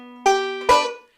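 A banjo picked in Scruggs style on the lesson tune "Across the Blue Ridge Mountains": a ringing single stroke, then a sharper two-string pinch, both plucked close and clear and decaying alone.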